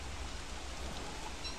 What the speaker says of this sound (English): It's been raining for like 3 weeks.